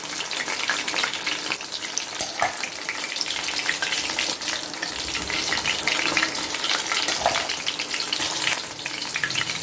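Fish frying in a pan for a spiced fried fish dish, with a steady close sizzle and crackle that carries on alone through the whole stretch.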